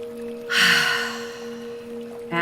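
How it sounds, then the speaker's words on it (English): One deep, audible breath drawn in through the nose and mouth over a soft background hum, followed by a quieter release before a second inhale starts at the very end. "Take a nice big deep breath."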